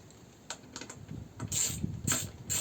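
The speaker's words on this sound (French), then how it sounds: "à partir de là, on peut visser" Screws being driven into the tail light of a Nissan Qashqai, a series of small clicking and ratcheting mechanical sounds, close and fairly quiet.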